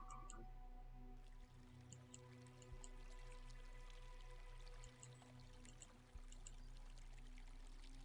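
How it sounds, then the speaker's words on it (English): Water sound effect played during a tabletop role-playing session, a soft, quiet stream of drips and trickling over a low steady hum, with no talking. "You guys hear that? I hear water."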